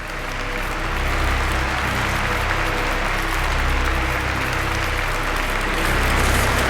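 A character in the video game Virginia claps, a steady, dense patter of applause-like clapping running evenly through the whole stretch with no talk.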